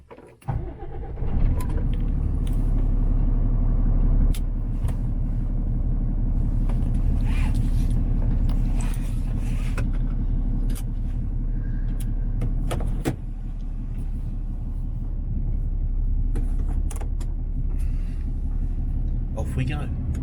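A diesel vehicle starts up and drives off with a loud, steady low engine rumble that continues throughout, close and inside the cabin, with scattered clicks and knocks over the drone.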